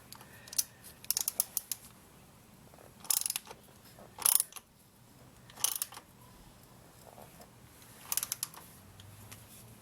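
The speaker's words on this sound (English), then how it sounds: "in my case I'm going to use a socket here" A socket wrench ratchets in short bursts of quick clicks, spaced several seconds apart, while snugging the oil filter on a 2001 Yamaha YZF600R motorcycle during an oil change, close up and otherwise quiet.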